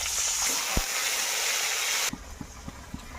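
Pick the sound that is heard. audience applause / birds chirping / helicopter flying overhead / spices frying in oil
spices frying in oil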